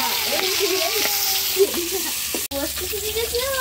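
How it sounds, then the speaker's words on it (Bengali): Oil sizzles and crackles steadily as fish fries in a pan, with faint voices underneath. "এই যে দিদি মাছ ভাজছে"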